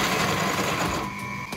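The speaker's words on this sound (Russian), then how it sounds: "Вот такая вот древняя швейная машинка." An old sewing machine stitches through three layers of canvas, giving a quick, steady mechanical chatter at close range that slows and stops toward the end.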